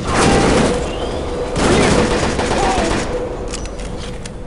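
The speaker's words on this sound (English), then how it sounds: "This seems like a time for a grenade launcher." Grenade launcher fire in the video game Shadow Ops: Red Mercury, heard as loud, dense bursts of booming shots and explosions in two heavy waves, followed by a rumbling tail.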